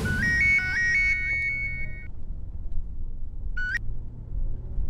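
A mobile phone ringtone plays a bright repeating melodic pattern as a call is placed, then stops, with a short chirp of tone a couple of seconds later over low background rumble.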